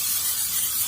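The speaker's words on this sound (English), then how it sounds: "First, I'm going to spray the casserole dish." A short, steady hiss of cooking spray on a casserole dish, close and fairly quiet, lasting about a second with no voices.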